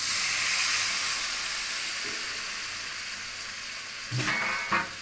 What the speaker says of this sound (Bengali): হয়ে গেছে, আমি একটুখানি জল দিয়ে দিচ্ছি।